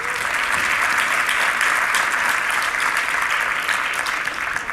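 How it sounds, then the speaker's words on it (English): A conference audience applauding at a tech event, loud, dense and continuous clapping from a large crowd filling the whole stretch without letup. "So let's give a big round of applause to Redis Labs."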